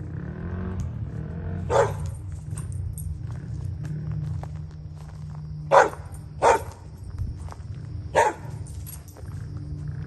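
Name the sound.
neighbor's puppy barking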